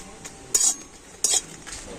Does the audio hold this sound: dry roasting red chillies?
yes